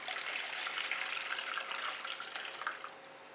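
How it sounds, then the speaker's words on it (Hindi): Water runs steadily into a bowl with a bright, splashy hiss that trails off slightly toward the end; no voices. "पहले बोल में डालेंगे पानी"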